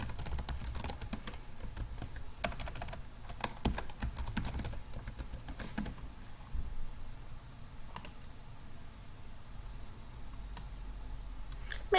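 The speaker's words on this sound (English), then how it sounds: "You will then type in your email address that you used to create your account." An email address being typed on a computer keyboard, with quick bursts of close key clicks separated by short pauses, plus a final tap or two near the end.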